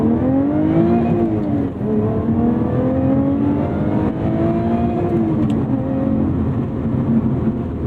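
A 2018 Lotus Evora 400 engine revs hard under full acceleration, its pitch sweeping steadily upward through the gear, then dipping at a shift and climbing again, loud and close with no talking.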